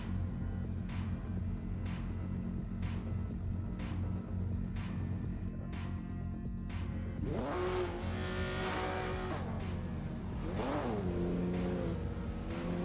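A Volvo S60R engine, used in sim racing, idles with a low rumble and brief regular blips, then revs loudly several times with rising and falling sweeps.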